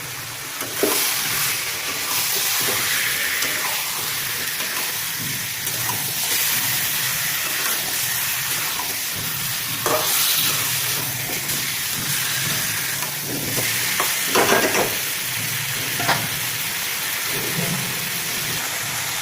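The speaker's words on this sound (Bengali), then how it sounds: "এরপর মাংসটাকে ভালো করে এবার কষাবো।" Chicken for home-made biryani sautés in a pot with a continuous loud sizzle and hiss, broken by intermittent scraping and clattering bursts as the meat is stirred, with no voices.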